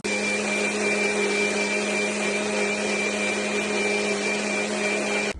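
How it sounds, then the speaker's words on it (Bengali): A blender grinds poppy seeds, white sesame and ginger into a paste, a loud, steady motor whir with a constant high whine that runs unbroken throughout. "পোস্ত, সাদা তিল, আদা বাটা, সব একসঙ্গে একটা পেস্ট বানিয়ে নেব।"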